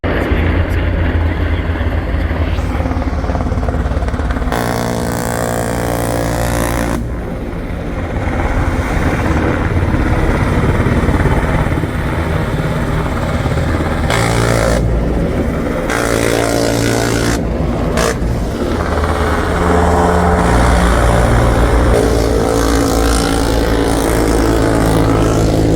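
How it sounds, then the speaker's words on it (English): An MH-60 Black Hawk helicopter at a special operations forces event in Tampa, Florida, gives a loud, continuous rotor and turbine roar with shifting intensity throughout. "we had an MH-60 Black Hawk helicopter from"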